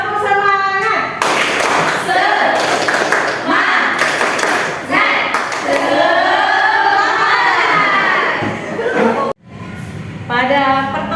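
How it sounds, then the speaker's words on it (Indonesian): A school classroom of students performs a rhythmic clapping chant led by their teacher, bursts of hand claps alternating with chanted voices, loud and close, with a brief pause before a final spoken phrase. "Tepuk semangat."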